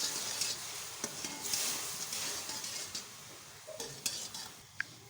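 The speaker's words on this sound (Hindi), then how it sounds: "और इसको अच्छे से पकाएंगे।" Sweet jaggery rice with dried fruit stirred in a cooking pot, a soft steady sizzle under occasional spoon scrapes and a few sharp clinks against the metal, close and quiet.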